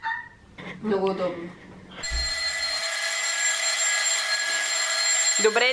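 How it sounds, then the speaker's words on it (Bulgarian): Someone talks first. Then a doorbell or phone starts ringing in a flat: a steady electronic tone that holds loud and unbroken for about three and a half seconds. "Някой май звъни."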